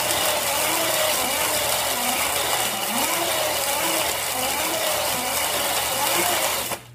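A hand-cranked blender being turned steadily as an arm workout, giving a continuous whirring, grinding mechanical drone with a faint ratcheting texture, close and loud, cutting off abruptly at the end.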